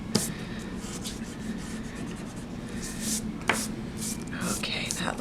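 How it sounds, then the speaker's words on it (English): Pencil eraser rubbing on a paper drawing, a steady scratchy rubbing with a few sharper strokes and taps, close and continuous. "If you see that you still have some pencil lines showing, you can go in with your eraser"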